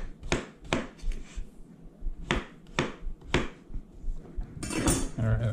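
A knife chops walleye fish into chunks on a small cutting board, sharp distinct knocks in an irregular series of about six, close and fairly quiet, ending with some handling clatter.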